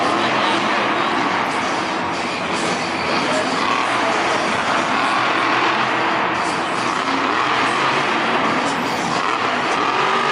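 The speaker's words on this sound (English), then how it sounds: "And a beautiful power wheelie, unleashing all the horsepower on Jimmy Creighton's chassis." A Monster Jam monster truck roars at full power during a power wheelie in a Detroit stadium, a loud, dense and unbroken engine blare mixed with arena noise and commentary.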